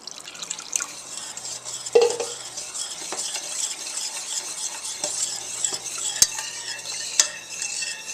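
Baby's first macaroni cheese sauce with milk is whisked and stirred in a pan, a continuous close scraping and swishing with occasional sharp clinks of utensil against the pot.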